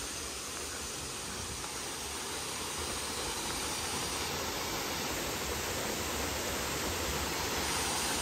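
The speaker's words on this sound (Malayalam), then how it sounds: "ശരിക്കും മഴക്കാലത്ത് വരികയാണെങ്കിൽ നല്ല ഭംഗിയുള്ള വെള്ളച്ചാട്ടമാണ്, കാരണം ഹൈറ്റിൽ നിന്ന് 2 സ്റ്റെപ്പായിട്ടാണ് വരുന്നത്" A two-step waterfall in a South Goa jungle pours with a steady, broadband roar, continuous and unbroken.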